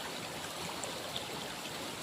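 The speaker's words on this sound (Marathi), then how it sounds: "किती पाणी व्हायला लागले शेतामधून" After heavy rain, rainwater rushes steadily out of a farm field channel, a continuous, even flowing wash at moderate distance with no pauses.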